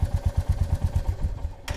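A Royal Enfield Meteor 350 motorcycle engine turns over and fires, giving a rapid, loud, close chugging pulse that slows and fades, then a sharp burst at the end.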